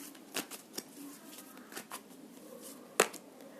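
Tarot cards are shuffled by hand in a quiet room, giving soft riffling swishes and a few sharp clicking taps, faint and close, with no talking.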